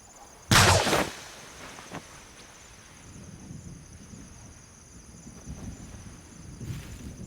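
A cannon net fires a single loud, sharp blast near the start to catch birds on a Torres Strait island, then fades into a quiet outdoor background with faint rustling and a later soft thump.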